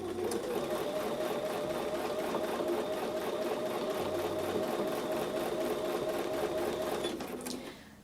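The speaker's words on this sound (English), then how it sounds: "I'm going to position the presser foot, I'm going to lower the needle, and then I'm going to start sewing again" A sewing machine stitches steadily along a quilted Christmas table runner, its needle whirring at a constant, fairly loud pace for most of the stretch before slowing and trailing off near the end.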